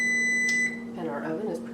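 An oven chirps a steady electronic preheat beep, tonal and bright, for about half a second before a person starts talking over the kitchen background.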